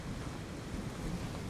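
Big sea waves surge and break on a UK fishing beach in a steady, loud roar of surf mixed with wind buffeting the microphone, with no voices.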